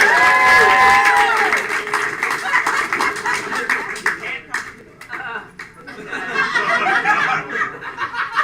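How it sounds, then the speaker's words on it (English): A studio audience bursts into a loud round of applause at a comedy game show, clapping steadily for several seconds with scattered chuckles and voices mixed in. "with a loud round of applause, let's bring out our contestants!"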